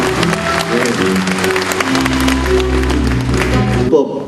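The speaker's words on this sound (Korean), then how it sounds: "뜨거운 격려의 박수 부탁드리겠습니다" Applause from an audience at a Democratic Party provincial members' rally in Jeonbuk, steady dense clapping with crowd noise that cuts off abruptly near the end.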